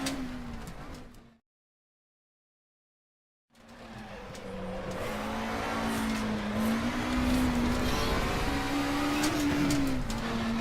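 In-game car in RaceRoom Racing Experience with a worsening gearbox grind as a gear is rejected on the shift; a steady engine drone that rises and falls, broken by a brief silent gap before the engine returns loud and continuous.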